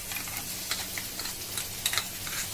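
Soaked whole coriander seeds and red chili ground into a paste go into a hot pan of oil for masala soya chaap, giving a steady close sizzle with brief crackling bursts and soft stirring scrapes, no voices.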